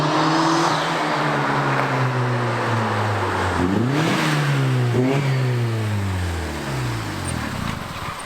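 A turbocharged 1.8 Toyota Yaris SR engine running and revving up and down repeatedly, close and loud, with rising and falling engine pitch.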